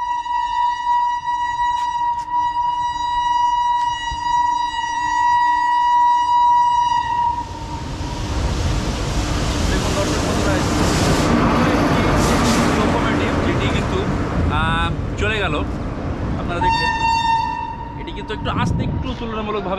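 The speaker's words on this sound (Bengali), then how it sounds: "আরও একটি ট্রেন আসছে স্পিড ট্রায়ালের জন্য" A train on a speed trial across the new Nashipur rail bridge between Murshidabad and Azimganj sounds a long, loud horn. A rising roar of wheels and carriages follows, then another horn blast near the end.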